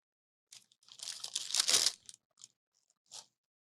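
A crunchy Taco Bell double-decker taco being bitten into, giving a loud, close, brittle crunch that lasts about a second, followed by a few softer crackling chews.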